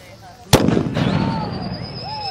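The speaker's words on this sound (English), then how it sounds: "Here's your mortar. It's got a flash salute in it." A firework mortar shell loaded with a flash salute of flash powder fires with one sharp, loud boom, followed by a rolling outdoor echo and a thin rising whistle.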